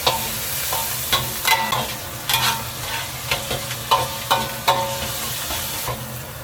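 Minced garlic and aromatics sizzle steadily in red chili oil over low heat, with a spatula scraping and stirring the wok in repeated sharp strokes throughout.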